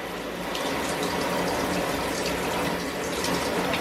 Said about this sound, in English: I'm going to turn on some cold water and just start blasting it on the actual backpack